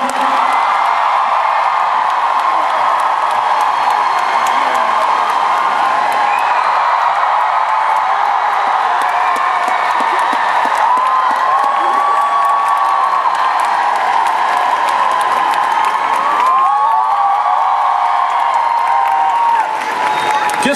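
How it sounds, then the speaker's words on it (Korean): A large audience at a skating show finale applauds and cheers in a dense, steady wash of clapping and shouts, loud and close throughout, with a possible voice mixed into the crowd noise. "다시 한번 힘찬 박수 부탁드리겠습니다"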